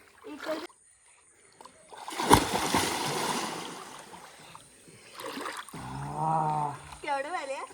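Children splash in the water at a village dam in Konkan. A loud splash is followed by churning and trickling water, and voices call and talk around it.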